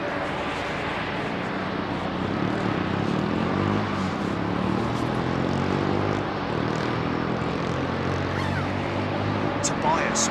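An Alitalia airliner at London Heathrow Airport roars steadily and loudly throughout, its engine noise broad and sustained, with voices talking over it.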